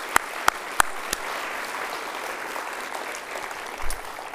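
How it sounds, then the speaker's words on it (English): At a Wednesday night church service, a congregation breaks into applause: a few crisp claps up close, then a sustained wash of clapping from a crowd filling the room. "give him one more round of applause"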